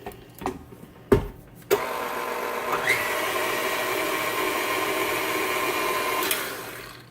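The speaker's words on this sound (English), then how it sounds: "put this on the mixer" An electric mixer whirs steadily as it mixes cheddar cracker ingredients, starting after a few knocks and running as a continuous mid-loud hum to the end.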